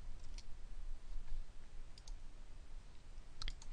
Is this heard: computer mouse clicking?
yes